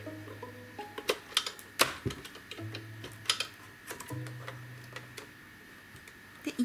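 A sewing machine stitches along a zipper edge on a small fabric spray-case pouch, running in short bursts of whirring motor hum broken by clicks and ticks, close and fairly quiet.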